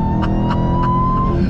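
Under hard throttle, a 2021 Dodge Charger Hellcat Redeye engine roars loudly and continuously, with a rising whine layered over the deep drone and a few brief rhythmic clicks.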